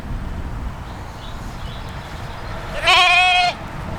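Against a quiet outdoor field background near Robin Hood's Bay, a single lamb gives one clear, wavering bleat lasting under a second.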